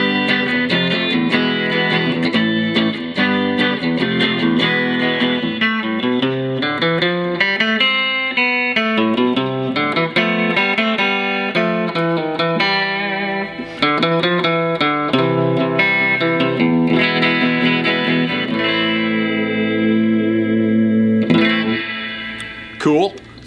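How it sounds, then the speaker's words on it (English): A 1965 Mosrite Ventures electric guitar on its bridge pickup, played through a Hot Rod DeVille amplifier with surf-style reverb: quick bright picked melodic runs and chords, loud and continuous, ending with a ringing strum. "We've got the 1965 Mosrite Ventures model. We're going through stock 410 Hot Rod DeVille."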